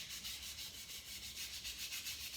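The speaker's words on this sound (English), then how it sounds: "Get as much off you can with a brush. Use a little scrubbing pad." Brush and scrubbing pad scrubbing wet plaster off coving, a steady close rhythmic rasping swish repeating in quick strokes, alone without talk.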